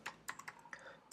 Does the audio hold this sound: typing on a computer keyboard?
yes